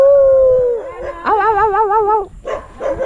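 A dog howls loudly and close by, a long wavering tone that rises and holds with a trembling vibrato before breaking off into shorter yelping howls.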